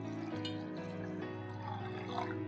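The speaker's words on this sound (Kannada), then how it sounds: "ಸ್ವಲ್ಪ ನೀರು ಹಾಕ್ಕೊತೀನಿ" Water is poured into a cooking pot of Avarekalu gravy simmering on a village stove, giving a soft, continuous trickle and splash at low level throughout with no talk.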